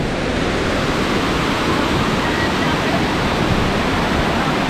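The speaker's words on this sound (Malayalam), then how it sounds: "എന്നാ ഇതാണ് വെള്ളച്ചാട്ടം" Karakkund waterfall in Kerala roars as a loud, constant broadband rush of falling water at close range, unbroken and with no clear talk over it.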